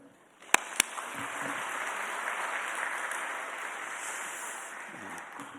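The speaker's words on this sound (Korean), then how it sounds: "목사님 등단하실 때 환영의 박수로 부탁드리겠습니다." A church congregation at a Sunday afternoon worship service gives welcoming applause for a visiting pastor: two sharp nearby claps, then sustained, steady massed clapping filling a large hall before it tapers off.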